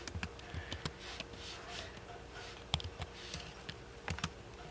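Quiet, steady typing on a computer keyboard, light clicks with occasional sharper taps spread evenly across several seconds, heard close and alone.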